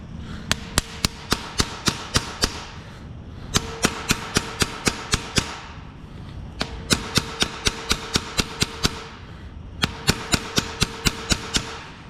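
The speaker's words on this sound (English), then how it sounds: "So I'm gonna put that on the head of the bolt, then grab a small hammer," A small hammer taps on the head of a bolt during work on a 1970 Chevelle LS swap: four bursts of rapid, sharp metallic strikes, about eight to ten blows each, ringing close and loud with short pauses between bursts.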